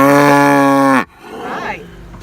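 A loud, sustained cow moo from grass-fed farm cattle fills the first second, then cuts off, leaving quieter rustling and faint farmyard background noise.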